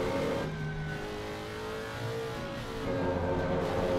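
A Ferrari race car engine in Assetto Corsa Competizione drones steadily at mid pitch, revving slightly up and down as it runs, fairly quiet and with no talking.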